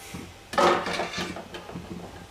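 A lid is lifted off a pan of zhunka, a gram-flour dish being steamed on low heat, giving one sharp, close metallic clank followed by a few lighter rattles and a soft clatter as it settles.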